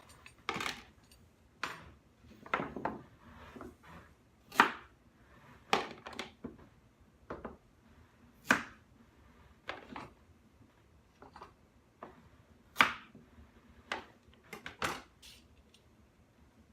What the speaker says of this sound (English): I'm going to cut the ends off these, give them a quick peel.